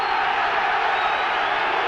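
A rugby crowd cheering at the 1989 Neath v All Blacks match, a dense, steady roar of many voices filling the stadium with no break.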